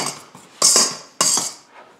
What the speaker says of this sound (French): La même chose ici, je mélange pour m'assurer que ma poudre à pâte et mon sel sont bien mélangés dans la farine.